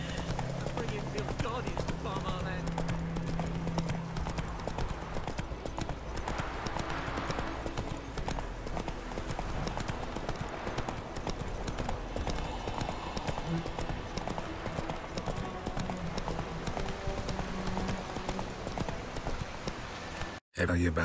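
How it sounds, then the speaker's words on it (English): Continuous clip-clop of a horse galloping in The Witcher 3 video game, rhythmic hoofbeats running steadily throughout with game music and a speaking voice layered over them. "Run, Roach"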